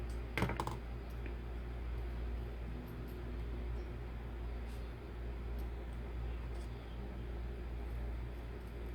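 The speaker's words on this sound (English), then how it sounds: "If y'all hear that clicking in the background, that's Randy being productive, making some chainmail" Faint, sparse clicking of metal rings being worked into chainmail, a few sharp ticks early and scattered light clicks later, low under a steady background hum.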